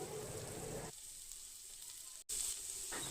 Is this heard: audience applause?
no